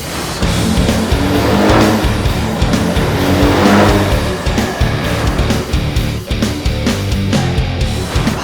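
A car engine roars loudly and continuously during an in-car intercooler pipe test, a dense sustained drone with rising surges that suggest acceleration, and no voices.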